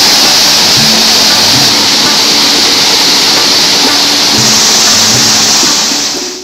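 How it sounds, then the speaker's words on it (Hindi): Traditional water-powered flour mill (gharat) in a remote hill village, running on stream water: a loud, steady rush of flowing water fills the whole stretch, with a faint low rhythmic knocking repeating beneath it. "पानी कन्ने चलने वाली पुराने टाइम दे कराड़ दी परंपरा दूर दराज दे ग्रां पिंडें च अजे भी लब्बे करदी है।"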